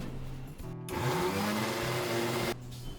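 Mixer grinder whirring loudly as it grinds cucumber pieces with no added water, a steady motor roar after a brief start, stopping near the end and then restarting.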